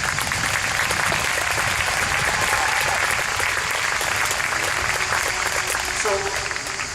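Dense, continuous applause from an audience at an international dragon boat event in Florence, a steady wash of many hands clapping at moderate distance, with voices mixed into the crowd noise.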